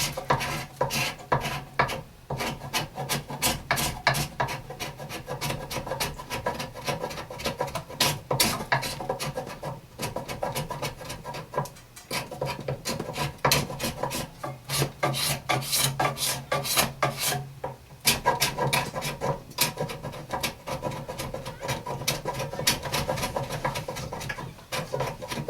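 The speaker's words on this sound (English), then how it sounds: "Right now I just want to make sure we don't dig into the wood. So I'm going to use a scrape." Hand scraper shaving the wood of an Osage orange selfbow outdoors, with a steady run of close, rasping strokes and brief pauses, no voices.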